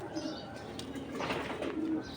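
Low cooing of a racing pigeon rolls under a busy, noisy background, with a faint flutter partway through.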